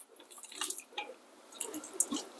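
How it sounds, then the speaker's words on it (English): Water draining out of a pot of cooked lentils, a run of soft, close drips and wet squishing splashes with a brief louder splash near the end, no voices. "I'm going to drain that water out"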